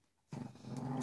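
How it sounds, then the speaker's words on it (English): A small dog growls low and rumbling from under a couch, starting abruptly after a moment of quiet and continuing close and fairly soft. "There's our little dog growling again."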